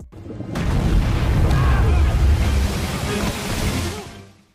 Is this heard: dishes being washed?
no